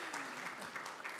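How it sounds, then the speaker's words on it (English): Faint audience applause after a talk at a community forum, a brief, even wash of clapping heard from a distance with no voices over it. "Yeah, we can clap."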